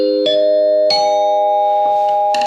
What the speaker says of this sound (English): A xylophone that sounds a lot like people's doorbells.